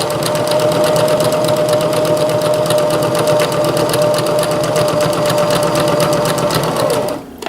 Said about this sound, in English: Back up a little bit to lock my stitches in.